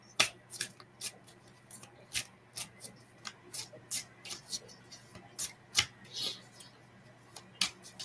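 Tarot cards being shuffled by hand, a run of crisp, irregular riffling snaps and taps close by with quiet gaps between bursts.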